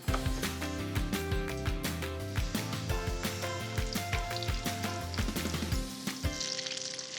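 Breaded chicken cutlets for chicken parm frying in hot oil, a steady close sizzle with frequent crackling pops and spatters running throughout.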